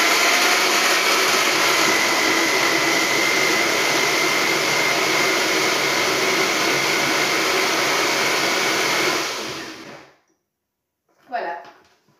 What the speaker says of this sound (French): je vais commencer à mixer ma boisson